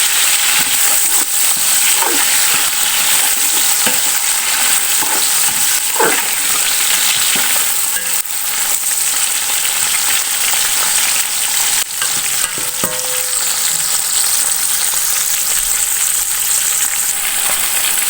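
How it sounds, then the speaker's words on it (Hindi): Tomatoes frying in a pan for chana dal pulao, a steady loud sizzle throughout with occasional scrapes and stirs of a spoon, no talking. "अब टमाटर को थोड़ी देर भून लूँगी"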